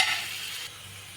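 Masala with salt, chili powder and turmeric being stirred in a hot pan for a paneer biryani, a brief close sizzle and scrape of stirring that fades slightly after a moment, with no voices.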